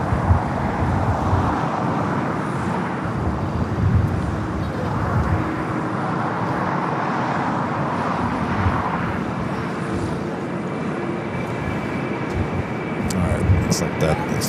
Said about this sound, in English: This flight coming from Mexico City, flight 644, wearing the newer updated Aeromexico livery on this 11-year-old